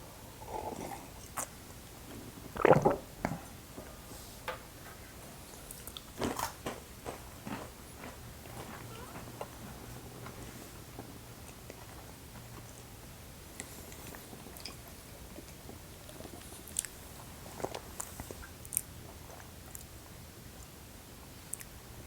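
Someone chews pecans while tasting a bottled-in-bond soft red wheat whiskey, with sporadic soft crunches and bites close by, strongest near the start and then scattered through a quiet room.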